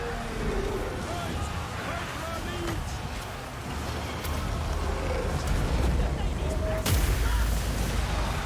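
Explosions in a fantasy role-playing video game, dense rumbling booms building in loudness, capped by a sharp burst near the end, with someone talking over them.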